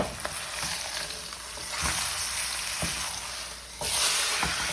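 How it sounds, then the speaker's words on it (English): Pot roast searing in a hot pan for a slow cooker dish, giving a steady close sizzle with a few sharper crackles and pops, briefly growing louder near the end. "what we're doing is just getting a crusty, just searing it off"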